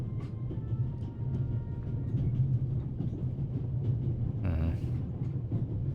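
Orient Express train in the video game The Raven Remastered, a steady low rumble of rolling rail wagons with a brief hissing burst partway through, continuous and fairly loud, with no talking.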